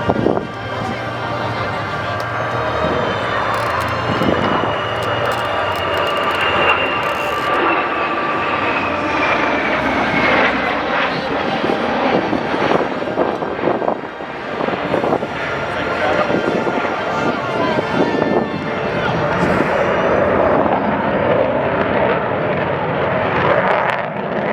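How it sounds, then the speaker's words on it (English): A rare jet formation at an airshow in Hillsboro, Oregon makes its final pass from behind the crowd, a loud, continuous engine roar that swells and shifts in pitch as the jets fly past, with a commentator talking over it. "watch as this rare formation approaches from behind the crowd for the final pass"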